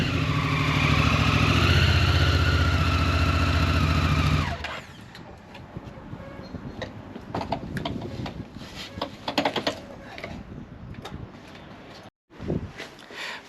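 A motorbike engine running close by as the bike is brought out of a garage, a loud steady revving drone that cuts off abruptly after about four seconds, followed by quieter scuffs and clatter.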